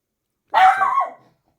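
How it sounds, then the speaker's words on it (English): A single dog barks indoors, one loud close bark trailing into a short whine that fades within about a second, with no other sound around it. "my dog is with me, as you can obviously hear him."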